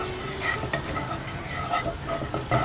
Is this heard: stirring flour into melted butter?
yes